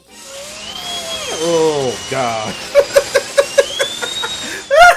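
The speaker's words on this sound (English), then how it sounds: "That's the sound of a dentist drill." A dentist drill in a wrestling theme song gives off a high, whining whir that glides in pitch, followed by rhythmic musical hits; a person briefly exclaims.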